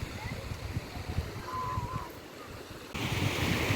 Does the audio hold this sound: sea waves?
yes